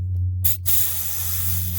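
Compressed air hisses in loud, steady bursts from an inflator as the tire pressures are set on a Mazda RX-7 at a track, with a brief break between the first bursts and a low hum underneath.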